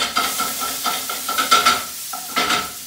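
Thai holy trinity curry paste frying in oil in a pan, stirred with a utensil: a close, lively sizzle broken by repeated scraping strokes, with no voices.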